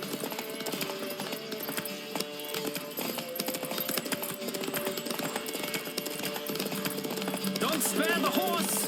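Rapid hoofbeats of a galloping horse in The Witcher 3: Wild Hunt clatter over a busy background of music and effects, with a brief whinny-like sound near the end.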